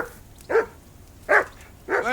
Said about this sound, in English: Hey, call off that dog and then we can talk.